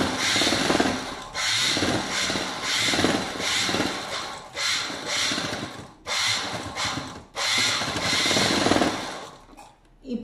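A sewing machine stitches fabric in a tailoring class, running in several close, buzzing bursts of rapid needle clatter broken by brief stops.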